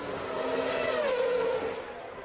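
Nigel Mansell's 1992 Formula 1 car accelerates out of the Rascasse corner at Monaco, a steady high engine whine with a pitch sweep, heard from trackside over crowd and broadcast noise.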